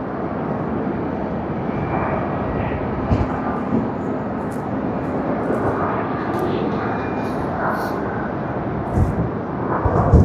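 Steady, broad jet roar of a Japan Airlines Boeing 787-9 taxiing at Tokyo Haneda Airport, heard from a distance as a continuous engine rumble with faint higher whine and no talk.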